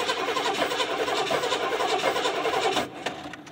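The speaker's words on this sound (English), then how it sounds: "Let's see if we can get this thing fired up" A 1985 Buick LeSabre hearse with a 307 V8, long left sitting, cranks with a steady, loud churning whir for nearly three seconds before the sound cuts off abruptly, leaving a brief faint tail.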